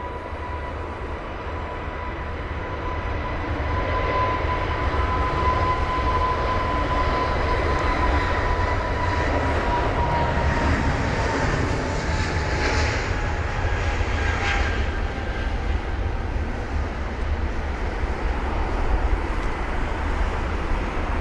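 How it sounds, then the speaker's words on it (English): British Airways Airbus A320neo departing London Heathrow in wet, spraying conditions, a steady jet engine roar with a whining tone that swells and holds from a moderate distance. "There's the A320neo, British Airways, amazing."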